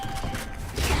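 A quick mechanical weapon reload clicks and ratchets in Valorant, a short close burst of metallic handling ending in a heavier clack.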